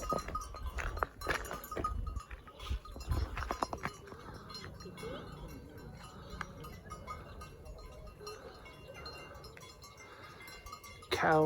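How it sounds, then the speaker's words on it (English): Bells on goats tinkle faintly along a trail toward Fornalutx, light scattered chimes mixed with shuffling outdoor noise and a few louder knocks early on. "Can you hear the faint tinkling of bells?"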